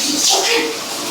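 Water splashes and pours loudly and close up for a brief moment while an elderly man is being bathed.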